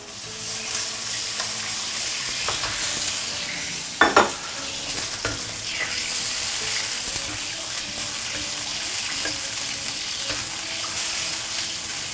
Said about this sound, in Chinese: 接着开小火慢慢去炒它，豆瓣酱一定要给它炒烧好熟